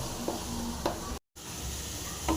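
Bitter gourd pickle sautés in a pan with a soft continuous sizzle and a few light stirring taps, interrupted by a brief dropout midway.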